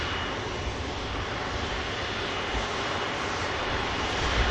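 A Chinook CH-47 helicopter flying near Manchester Airport, a broad, steady roaring engine and rotor rumble that stays loud and even throughout, growing slightly stronger toward the end.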